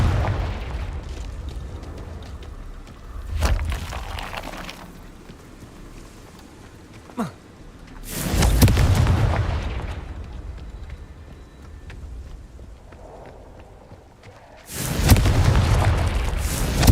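Blasts from the Confringo fire spell in the video game Hogwarts Legacy go off in a cave, with three loud booming bursts spread apart, each rumbling away into quieter ambience.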